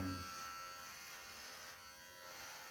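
An electric razor shaving a beard buzzes steadily and close for the whole stretch, a dense, continuous hum with no talking over it.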